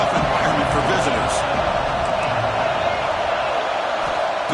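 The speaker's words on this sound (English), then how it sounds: "Listen to the crowd energy here in the early going." A stadium crowd roars in a dense, steady wash at a football game early on, loud and continuous, with a commentator talking over it.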